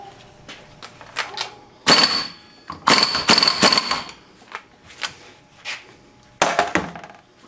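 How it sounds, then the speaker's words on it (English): Metal clanks and clicks from tightening a 24mm nut onto a Cub Cadet mower spindle pulley, several sharp bursts and rattles spread across the clip, close and fairly loud. "I'm going to get the nut and tighten the nut down on there."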